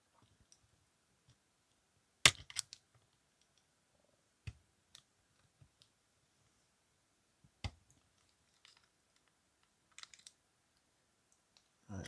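Plastic body clips being prised loose on a Hornby model locomotive: sparse, sharp little clicks and snaps scattered across a quiet room, with long silent gaps between them.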